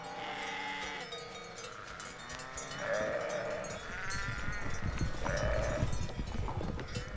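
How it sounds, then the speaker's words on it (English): Domestic sheep grazing alongside wild grazers bleat several times, long wavering calls from more than one animal against a steady outdoor rumble of movement and grazing. "here the wild grazers are joined by domestic sheep"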